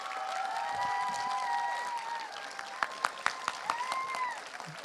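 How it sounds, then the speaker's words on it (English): An audience at a church Christmas skit show claps in a short round of applause, moderately loud and somewhat distant, with a few sharper individual claps near the end. "Let's give them a round of applause again."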